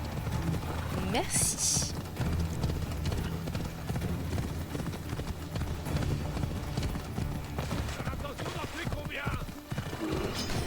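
A horse's hooves clip-clop rapidly and continuously in a video game, close and rhythmic, with a voice speaking briefly over the steady hoofbeats.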